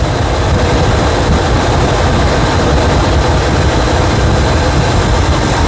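A small engine fitted with a Chinese carburetor idles steadily at around 1300 rpm, a loud, close, unbroken mechanical drone with no pauses.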